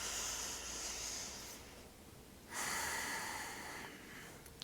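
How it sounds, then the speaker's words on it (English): A slow, deep breath drawn in through the nose, then another audible inhale after a short pause, close and breathy against a quiet room in a calming yoga class. "take a big inhale"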